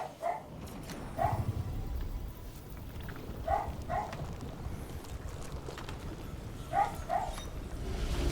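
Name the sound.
dogs barking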